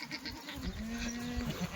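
A Kathiawari goat lets out a single drawn-out bleat of under a second, moderately close, over a murky background of shed noise.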